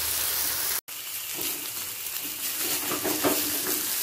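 Taro greens and a hilsa fish head fry in a pan with a steady, bright sizzle. Soft stirring scrapes and clinks sit under it after a brief cut near the start.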